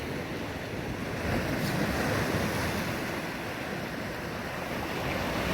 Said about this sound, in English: we're already getting a bit of swell coming round the corner